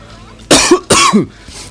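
A person with a bad cold gives two sharp, close coughs in quick succession, each loud and chesty, with quiet before and after.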